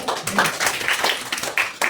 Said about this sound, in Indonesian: kasih tepuk tangan buat kalian